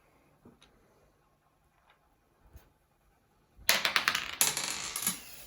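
Dice rolled onto a tabletop during a Warhammer Kill Team wargame: after near-quiet with a few soft taps, a dense rattling burst of small clattering clicks lasts over a second.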